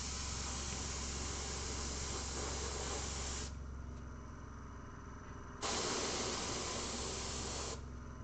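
An airbrush sprays paint with a steady, close hiss in two bursts: one lasts about three and a half seconds, then after a quieter pause a second runs about two seconds. No voices are heard.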